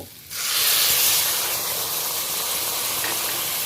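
Water poured onto a hot, well-fried spice mixture in a pan for a fish curry with papaya and potato, setting off a sudden loud hiss of steam and sizzle that stays strong and steady.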